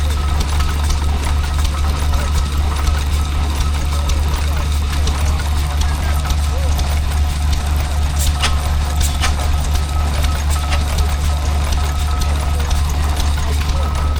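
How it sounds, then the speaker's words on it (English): A Blackstone stationary oil engine drives a big water pump at a rural show, running with a steady, loud, rhythmic thumping beat close by throughout. "being powered by a Blackstone oil engine"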